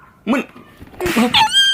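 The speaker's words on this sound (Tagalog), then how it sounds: "Aso yun, pangalan niya lang Mani" A small dog whimpers and yips in short, high, close cries, broken up by brief gaps, as people chat nearby.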